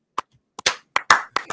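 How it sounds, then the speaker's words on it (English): A few slow, deliberate hand claps spaced well apart, close and crisp, each a sharp isolated smack with silence between, heard during a casual live review show. "That deserved a No. slow clap, all right?"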